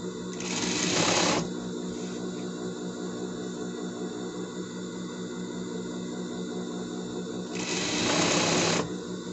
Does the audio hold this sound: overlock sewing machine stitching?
yes